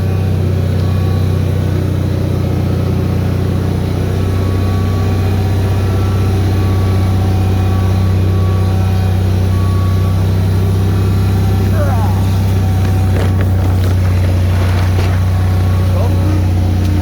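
A Bolens HT-23 garden tractor engine runs while the machine is driven around, producing a loud, steady, close-up droning hum that never lets up.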